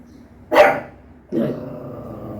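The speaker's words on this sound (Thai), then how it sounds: "พี่วากิวเห่าอะไร" A pet dog at home gives two sharp, close barks about a second apart, with no voices.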